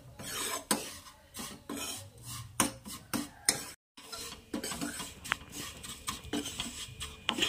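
Vermicelli roasts in a pan while a spoon stirs it, giving repeated scraping and rasping strokes against the metal in an uneven rhythm, close and fairly loud with faint sizzling between strokes and no talking.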